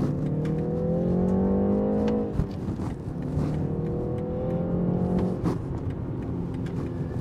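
A new BMW 3 Series accelerating hard in sport mode on an open road, engine pitch climbing through two gear shifts with a brief drop between them, heard from inside the car.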